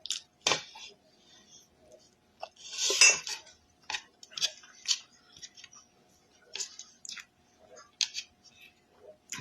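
Cutlery clinks and scrapes against dishes during a simple meal of rice and salt, in a string of sharp, close taps and clatters separated by quiet pauses.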